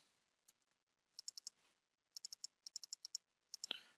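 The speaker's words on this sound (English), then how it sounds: "So double clicking each one of these" Quiet mouse clicks in pairs and small bursts while a low-poly cup is modeled on a computer, crisp and close with short gaps between double-clicks, ending in one sharper tap.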